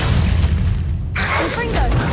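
Glacius freezing spell in Hogwarts Legacy, a booming magical burst followed by a bright crackling, icy shattering swell, close and loud, with voices over it.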